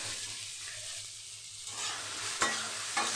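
Large onions with a good pinch of salt fry in a pan, a quiet hiss that swells louder partway through, with a couple of sharp spoon taps against the pan near the end; no speech.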